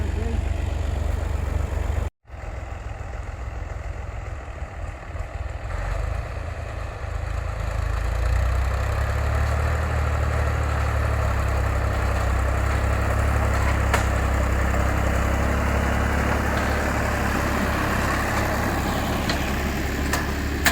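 A tractor engine idles steadily and loudly on farmland while workers pull out and clear stuck grass, with a brief dropout near the start before the low rumble continues unbroken.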